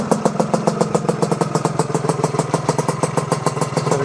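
A 1969 Lambretta GP125 two-stroke scooter engine runs at a fast, even idle, its close, loud putter of rapid regular pulses continuing throughout.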